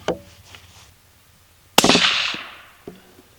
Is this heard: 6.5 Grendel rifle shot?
yes